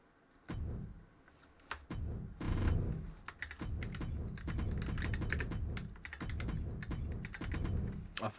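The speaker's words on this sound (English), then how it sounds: "I forgot I've got like a keyboard right here." Rapid keystrokes on a computer keyboard during a WWE 2K25 MyRise gaming session, a steady clatter of close, loud typing running almost continuously with brief pauses.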